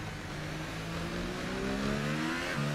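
A damaged McLaren Formula 1 engine revving at Monaco in F1 2018 gives a steady, moderately quiet whine and drone that slowly climbs in pitch, with no voices.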